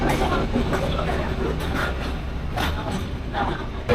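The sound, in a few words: train passing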